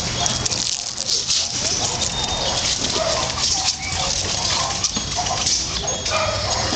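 A Boxer dog whimpers and yips close by in a loud, busy setting, its small cries scattered through steady background noise.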